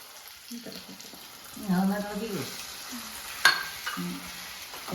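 Prawn roast masala with tamarind water, chilli powder and pepper powder is stirred in a frying pan, giving soft scraping and light sizzling up close, with a sharp clink partway and a voice speaking between strokes.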